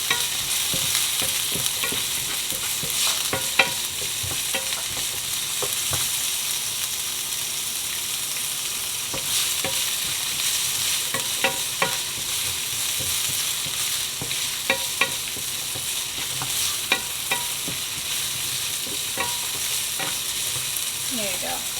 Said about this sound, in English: Because now I am going to saute